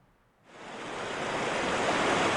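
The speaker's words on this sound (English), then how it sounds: "High Flow River." A high-flow river rushes as a broadband roar that starts abruptly after a near-silent half second, then swells and holds steady, loud and unbroken.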